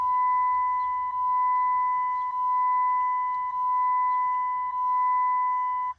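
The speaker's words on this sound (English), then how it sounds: "forgive the beep" A Launch X431 Creader Elite scan tool on a Mopar truck, with the ignition being switched, gives off a loud, steady electronic beep with slight regular dips every second or so, holding about six seconds before cutting off abruptly.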